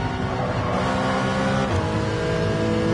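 Porsche Cayman engine in the Gran Turismo 7 racing game, revving hard with a steady, rising harmonic whine and layered mechanical hum, loud and continuous, with no speech over it.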